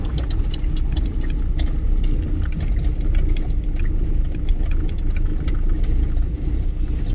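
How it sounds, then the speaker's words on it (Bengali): A car engine hums steadily while a learner drives along a village road, a continuous low rumble at close range with faint rattles over it. "তিন দিন ড্রাইভিং শিখের পরে আব্দুল আজিজ ড্রাইভিং করতেছে"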